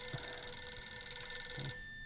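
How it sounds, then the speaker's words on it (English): A telephone rings in the video game Atomfall, a steady electronic ringing holding for nearly two seconds and then cutting off, loud and clear with no one talking over it. "where's the phone ringing him from?"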